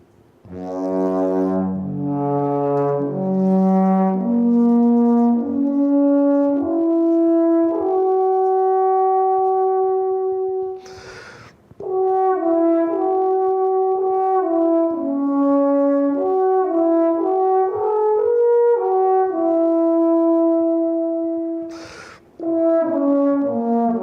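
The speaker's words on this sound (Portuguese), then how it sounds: "Esse é o som da trompa alpina" An alphorn plays slow, deep, mellow sustained notes in a flowing melody, loud and close, with two short breaths between phrases.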